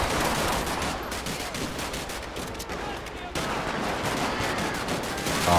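Rapid gunfire crackles in GTA 5 with the LSPDFR police mod, a dense run of sharp, close shots in bursts, with a brief quieter gap before the firing resumes.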